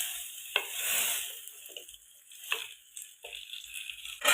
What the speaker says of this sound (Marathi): आपण गॅस बंद करून यात वरतून असा तडका द्यायचा